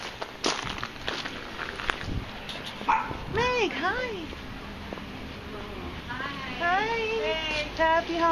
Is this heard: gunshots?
no